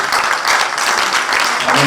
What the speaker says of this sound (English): give a long hand of applause as she walks up to the stage